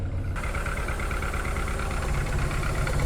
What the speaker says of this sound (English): See, it sounds fine. It is rough idling a little bit